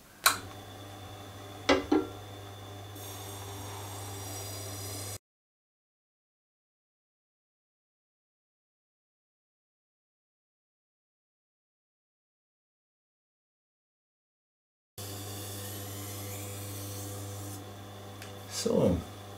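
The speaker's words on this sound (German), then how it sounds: "Ich poliere ja nur, ne? Ich schleife ja nicht in dem Moment." A CBN 80 grinding machine hums steadily while a blade edge is polished against it, with scraping touches, then a long stretch of silence before the hum returns.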